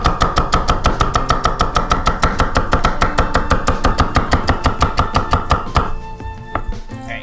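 A knife chops celery rapidly on a cutting board, a steady run of sharp, even knocks close by that stops near the end, leaving quieter handling sounds.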